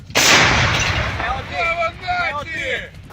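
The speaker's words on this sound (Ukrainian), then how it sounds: "Постріл!" A single loud, close gunshot with a heavy boom that rumbles and fades, followed by faint voices in the background.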